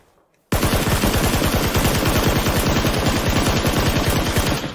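Rifle fire in a shooter video game: after a brief silence, a long, rapid burst of loud automatic shots rattles on steadily for about four seconds, close and unbroken, with no talking.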